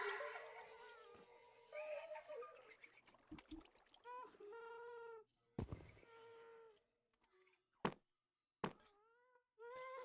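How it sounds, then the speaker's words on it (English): Several short meows from a cat in a video game, faint and scattered between bursts of other game noise, with occasional quiet talk. "why do I suddenly hear cats?"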